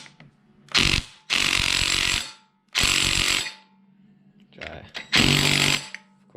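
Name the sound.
impact wrench loosening motorcycle clutch bolt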